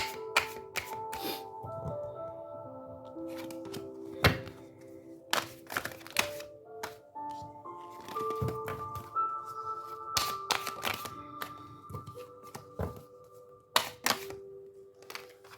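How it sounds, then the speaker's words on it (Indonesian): Tarot cards are drawn and placed from a deck, making sharp, irregular snaps and soft slaps close by over quiet melodic background music. "Saya ambil 2 kartu lagi ya."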